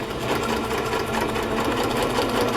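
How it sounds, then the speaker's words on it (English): A sewing machine runs steadily through a straight stitch on fabric for a boho cover craft project, a continuous close, even mechanical whir with a fast rhythmic needle beat and no talking. "Just with a straight stitch."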